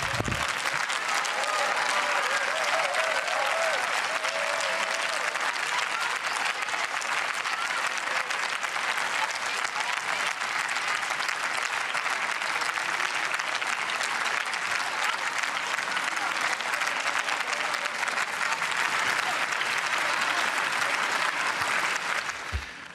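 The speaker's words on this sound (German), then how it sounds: "Sehr viel Applaus auf der linken Seite des Hauses." Sustained, loud applause fills the German Bundestag chamber, coming from the left side of the house, steady and dense from start to finish.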